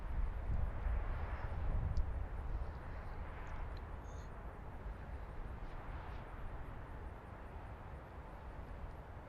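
An airplane lands at Baltimore-Washington airport behind a line of trees, heard as a distant, low jet engine rumble that is strongest at the start and fades gradually, with some broadband noise over it.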